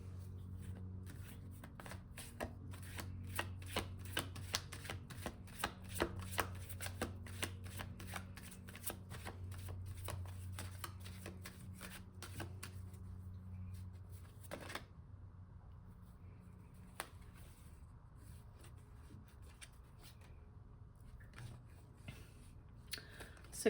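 Tarot cards are shuffled by hand close up, a long run of quick riffling flicks and soft slaps that slows and thins out toward the end, with faint talking in the background.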